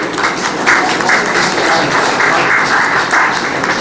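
Steady applause fills the hall as an audience claps to welcome a school chairman at a public yoga and legal-services event, dense and loud throughout with a faint murmur of voices underneath.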